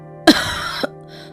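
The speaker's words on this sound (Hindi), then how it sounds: "माँ को बुरी तरह से खांसी हो रही है।" A sick woman coughs badly, one harsh hacking burst followed by a shorter second cough, close and alone.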